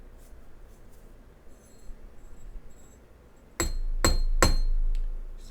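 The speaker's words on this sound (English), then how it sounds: "I'm going to hammer to flare out these ends" Three sharp metallic hammer taps flaring the ends of metal wire earrings, in quick succession after a few seconds of quiet room noise, close and fairly loud.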